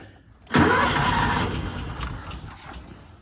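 A Kawasaki Mule 550 utility vehicle engine on half choke catches abruptly after a brief pause, then settles into a loud, rough near idle that slowly eases down.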